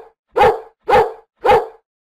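A dog barks three times at an even, unhurried pace, each bark loud, close and sharp, with brief silences between them and no other sound around.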